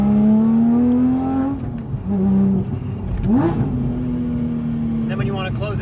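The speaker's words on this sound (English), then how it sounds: "This system controls the factory exhaust valves and gives you the flexibility to enjoy loud and quiet sounds at the touch of a button." A Porsche 997.2 GT3 with its factory exhaust valves open, loud and close, revs up, drops, then blips sharply and holds a high idle.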